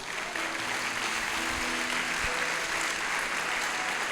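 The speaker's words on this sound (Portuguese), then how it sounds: "Uma salva de palmas a Jesus" A church congregation breaks into sustained applause, a dense wash of many hands clapping evenly from start to finish in a reverberant hall.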